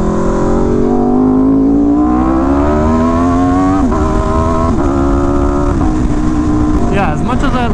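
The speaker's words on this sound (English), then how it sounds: "That Crossplane is the only exhaust that sounds somewhat similar to the RSV4." Aprilia RSV4 motorcycle exhaust under way, a loud steady engine tone that climbs gradually in pitch as the bike accelerates, with a brief shift dip near the end and constant wind rush.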